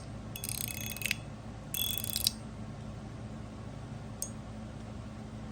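Titanium mini-burger mechanical fidget slider being slid, two short metallic ratcheting, clicky slides followed by a single faint click, close against a quiet steady hum, no talk.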